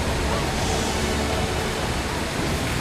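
Rushing water at Pagsanjan waterfall in the Philippines, a loud unbroken roar of falling water heard close, steady for the whole short stretch.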